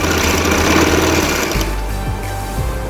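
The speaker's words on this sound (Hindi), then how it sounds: "ये सीढ़ी लेस को इस तरह आराम आराम से रखते जाएं और इसके साथ साथ सिलाई लगाते जाएं।" A sewing machine runs steadily, stitching lace onto fabric with a dense mechanical whir, close and continuous, with a shift in motor pitch partway through.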